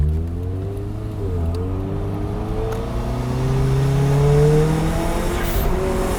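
A turbocharged Toyota GT86 Rocket Bunny race car engine revs up close, its pitch climbing smoothly and holding in a loud, steady roar over several seconds.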